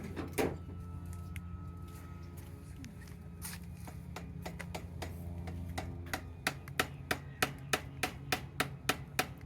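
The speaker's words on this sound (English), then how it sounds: "We'll hammer it in." A hammer driving a part into bicycle handlebars, landing a steady run of sharp, evenly spaced metallic strikes after a few scattered knocks and some handling noise.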